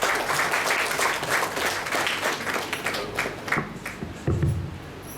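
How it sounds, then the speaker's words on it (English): Applause rises from a gathering at a college foundation stone laying ceremony for a canteen annex, scattered clapping of moderate loudness that thins out toward the end, with a faint murmur underneath. "May I have a big round of applause for sir?"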